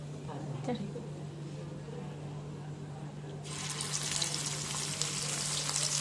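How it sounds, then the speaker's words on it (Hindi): Mutton chops frying in oil in a frying pan: a low steady hum with faint activity, then a bright, dense sizzling hiss bursts in partway through and carries on steadily to the end. "अब हमने ना फ्राई पैन में ऑयल डाल के अब इसको हम फ्राई करते हैं"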